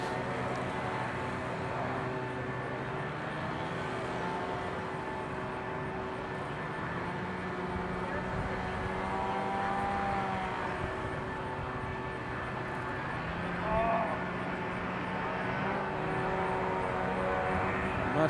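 A jet aircraft passes overhead at a distance, its low, steady roar droning for a long stretch in the open air of a disc golf course beside water.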